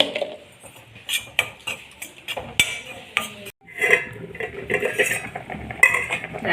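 A utensil stirs chilli powder and turmeric through yam curry in a pan, with repeated metallic scrapes and clinks against the pan at an irregular rhythm, close up.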